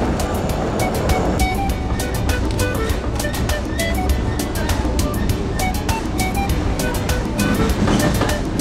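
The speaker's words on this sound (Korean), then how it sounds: "야운데로 돌아온 나는 북부로 가기 위해 기차를 탔다." A night passenger train running north from Yaounde in Cameroon rattles along with steady rolling rumble and repeated rhythmic clicks of wheels over rail joints, heard from inside the carriage.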